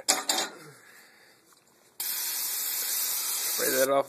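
A brief burst of spraying at the start, a quiet stretch, then a loud continuous hiss of a pressure sprayer blasting liquid onto a Ford tractor.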